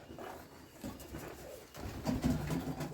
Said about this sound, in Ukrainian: Покажу я цих голубят.